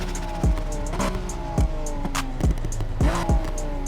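A Nissan Skyline R34 race build with a forged RB26 engine drones steadily in the game Need For Speed Heat, while sharp revs and quick gear-shift bursts punctuate it several times, loud and close.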